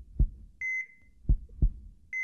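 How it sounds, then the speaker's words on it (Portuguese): Hospital heart monitor in Friday Night Funkin': three soft, low heartbeat thumps spaced irregularly, interleaved with two clear electronic beeps from the monitor, fairly quiet and alone with no talking. "E tem uns bagulho de hospital, de batimento cardíaco mesmo. Máquina de hospital."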